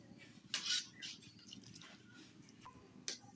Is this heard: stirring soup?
yes